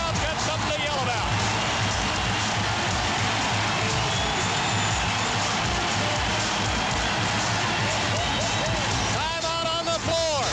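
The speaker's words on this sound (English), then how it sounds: "now this crowd's got something to yell about" A packed college basketball arena during a 1993 Florida State vs. North Carolina game, with a loud, sustained crowd roar and yelling that fills the space throughout, sneaker squeaks near the end.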